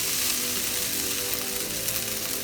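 Cooked rice fries in a pan for egg fried rice, with a steady, dense, close sizzle and hiss that lasts the whole brief moment.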